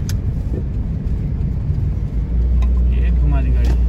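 A car's engine runs close by as the vehicle is turned around on a narrow road in hot weather, steady low rumble rising toward the end, with people talking over it.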